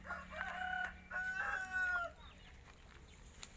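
Rooster crowing at a rural Thai home, one drawn-out cock-a-doodle-doo with a broken, wavering middle, moderately near, followed by quieter farmyard background.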